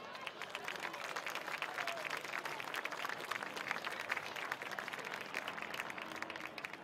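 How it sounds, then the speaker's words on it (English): Sustained applause from a crowd at a high school boys' varsity football event, steady and dense clapping throughout, fairly distant and reverberant. "Let's once again give them a round of applause."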